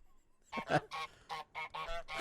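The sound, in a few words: geese honking in a Nintendo indie game trailer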